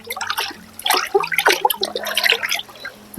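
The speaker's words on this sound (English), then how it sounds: "Okay, can we put in some warm water?" Warm water is poured into a tub to soak a horse's sore hoof, splashing and trickling in uneven bursts close by, fairly loud with no talk.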